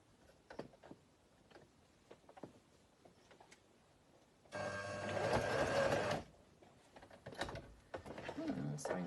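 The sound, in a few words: sewing machine running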